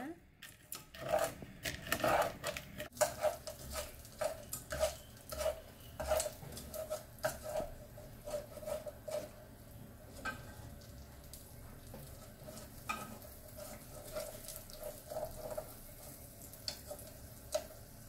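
Rapid, scraping stirring of loose corn kernels in a pot for butter popcorn, with light ticking and rattling against the metal, while a faint sizzle runs underneath.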